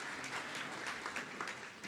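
A celebration audience keeps clapping in a soft, even spatter of many hands, slightly distant and unbroken for a couple of seconds.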